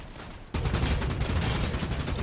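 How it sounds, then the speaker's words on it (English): Sudden burst of gunfire in the Bloodhunt battle royale video game erupts after a quiet moment and continues as dense, loud, rapid shooting. "I was being shot at."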